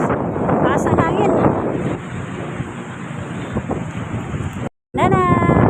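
Strong wind buffets the microphone at a beach in Manila, a steady loud roar throughout, with brief voices partly mixed in and a short cut near the end.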